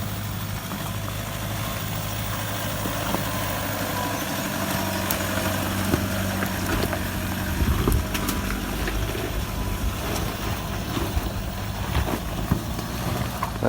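A vehicle engine idling and revving with wheel spin on a slippery, rain-soaked rutted track, a low continuous rumble with rough surges and scattered clicks and knocks, fairly near, no voices.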